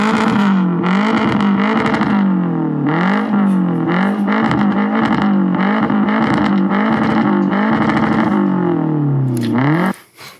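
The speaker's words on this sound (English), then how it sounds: "a 2009 straight pipe muffler resin delete Toyota Camry" A 2009 Toyota Camry with a straight-pipe exhaust and resonator delete revs over and over, loud and raspy, each blip rising and falling in quick succession before the engine cuts off abruptly at the end.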